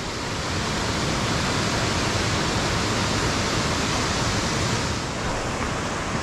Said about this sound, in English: That's more of a spectacular waterfall than I had uh, thought it would be.